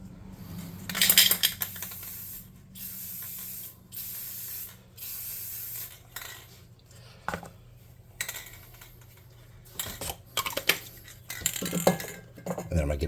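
Clear coat is sprayed from an aerosol can onto small handmade tabletop miniatures in repeated short bursts of loud close hissing, separated by brief pauses and light clicks and taps.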